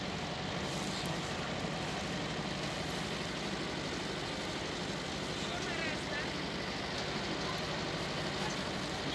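A homemade farm vehicle's engine drones steadily and loudly while it drives off to unload hay for rabbits, a constant rough noise with a voice heard over it.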